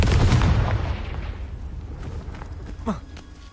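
A Confringo blasting spell from Hogwarts Legacy goes off as a loud, broadband explosion right at the start, then rumbles and fades over a few seconds, with a brief higher swoosh near the end.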